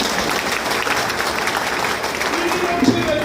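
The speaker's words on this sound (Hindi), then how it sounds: "जरा तालियां तो बजी।" An audience claps at a youth conference held at a wedding hall in Godda, Jharkhand: dense, sustained applause from a crowd, with a speaker's voice carrying over it.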